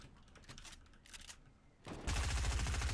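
Fortnite silenced assault rifle fire, scattered muted shots at first, then a sustained rapid burst of loud, dense automatic fire close by, with no talk over it.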